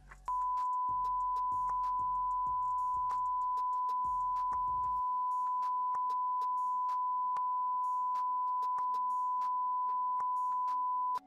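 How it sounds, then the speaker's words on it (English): A steady electronic censor bleep tone runs continuously over speech for about eleven seconds, with faint clipped voice fragments and low bursts underneath near the start. "he bleeped it out so we wouldn't hear"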